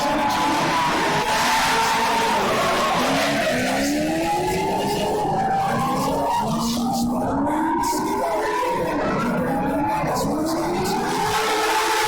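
Drift cars at a Great Lakes ProAM drifting competition squeal their tires in long, wavering howls as engines rev and rise and fall, the sound steady and fairly distant across the track.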